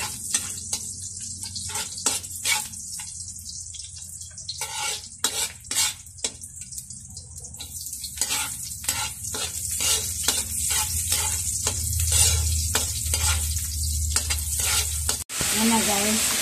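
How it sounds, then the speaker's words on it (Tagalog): Bamboo shoots (labong) are sautéed in a pan, with a crackling sizzle under repeated spatula stirs and metallic scrapes that grow busier and louder as the frying goes on; no speech. "gisa muna natin bago adobohin yung labong"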